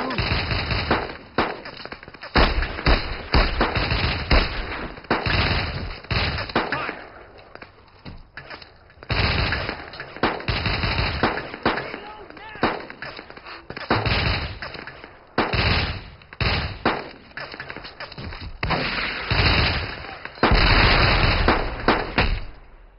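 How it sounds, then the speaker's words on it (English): Heavy gunfire and bazooka blasts in the World War II shooter Brothers in Arms: Hell's Highway: dense machine-gun bursts and loud booming explosions sounding almost constantly, with brief lulls between volleys. "I've got a bazooka with my assault team. The bazooka can kill hard targets."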